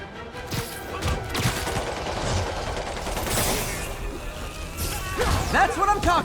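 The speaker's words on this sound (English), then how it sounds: "Gunshot coming!" Bursts of rapid gunfire crackle through a busy battle in Spider-Man Remastered on PC, with shouting voices and clattering impacts layered over it.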